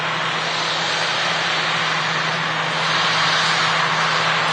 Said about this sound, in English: As we wait for this EasyJet to land.